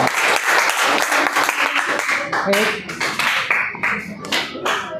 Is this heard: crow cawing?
no